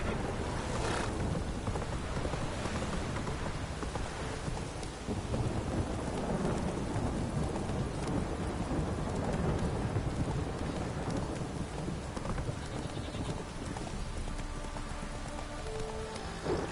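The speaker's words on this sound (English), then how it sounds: "This downpour's a bastard," Heavy rain pours steadily throughout in The Witcher 3: Wild Hunt, with low rumbles of thunder rolling underneath and faint horse hoof clops now and then.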